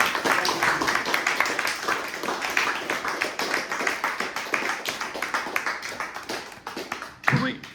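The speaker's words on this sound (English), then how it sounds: "I think a round of applause for that." An audience at a discussion event claps steadily, a continuous patter of many hands at moderate volume that thins out near the end, with a brief voice at the close.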